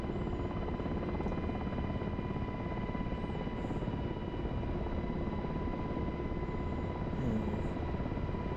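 A UH-60 helicopter flies with a steady, continuous rotor and turbine drone that holds at an even level throughout, with a faint tonal whine over the broad rumble.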